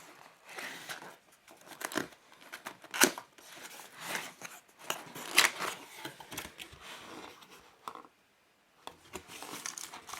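Someone opens the cardboard box of a JK-Tech Z-88 mechanical gaming keyboard. Close rustling, crinkling and tearing comes in uneven bursts with sharp scrapes, then stops briefly before the handling resumes.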